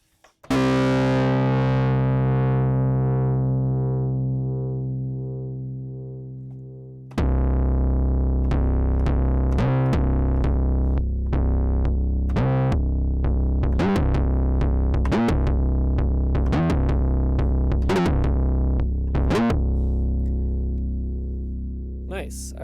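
A distorted, dirty 808 bass synthesized in the Helm synth: a long sustained note slowly decaying, then a run of repeated gritty bass hits with sharp transients, loud and alone with no talk.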